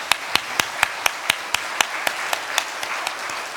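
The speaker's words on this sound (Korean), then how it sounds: "우리 감사의 박수 올려드리겠습니다" Church congregation applauding together at a Thanksgiving Sunday service, with sharp, steady claps repeating in a regular rhythm under a constant wash of hands, filling a large room.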